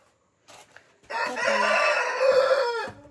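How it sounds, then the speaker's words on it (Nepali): A rooster crows once, loud and close, a long drawn-out call after a couple of brief soft sounds. "यो भाले भाँसेको साथी।"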